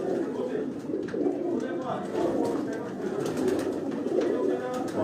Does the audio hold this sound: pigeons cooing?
yes